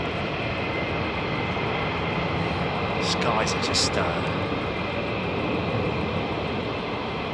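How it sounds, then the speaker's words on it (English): F-15 fighter jets fly around RAF Lakenheath, giving a continuous loud, rumbling jet roar with a brief higher-pitched swell in the middle while a person speaks over it. "the air is full of the sound of F-15s at the moment"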